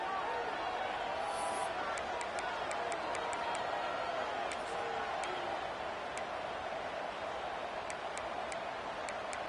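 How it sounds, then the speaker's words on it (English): Stadium crowd in a football video game, a steady roaring wash of noise with faint scattered ticks and claps, loud and constant throughout with no pause. "this crowd is fired up. Listen to this noise here."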